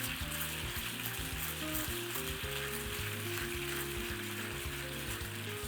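Mentsuyu sauce sizzles and reduces in a pan with asparagus, a steady, even frying hiss that holds at moderate loudness throughout without a break.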